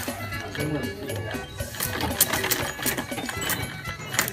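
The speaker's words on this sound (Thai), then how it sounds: "อันนี้ต้องค่อยๆเย็บค่ะ" Hand sewing of palm leaf products on a two-inch frame during a vocational training session, a steady busy mechanical texture with someone talking over it throughout.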